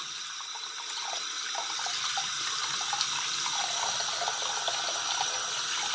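Water runs steadily from a faucet after a home water heater tank has been drained, a continuous hissing splash that stays loud and close for the whole stretch, with no talking.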